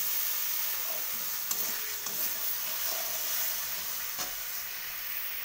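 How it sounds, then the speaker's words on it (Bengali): Spice masala sizzles and fries steadily in hot oil in a pan for a cauliflower, potato and paneer sesame curry, with a continuous hiss and a few sharp stirring clinks. "তো আর বেশ 5 মিনিট মতো আমি কষিয়ে নেব।"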